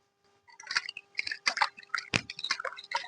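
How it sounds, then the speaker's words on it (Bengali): Water drips and splashes as hands are rinsed clean after scrubbing brass puja utensils, a run of short wet squishes and trickles, fairly close and fading in and out in uneven bursts. "দেখুন একদম আমি ধোয়া সুন্দরভাবে আমি ধুয়ে নিলাম হাতটা"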